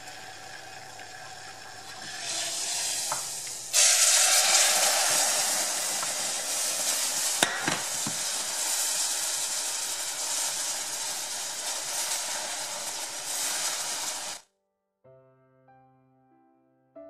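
Hot cream poured into nearly finished caramel in a pan, bursting into a loud, rushing sizzle and hiss that surges up sharply, holds steady for about ten seconds, then cuts off abruptly.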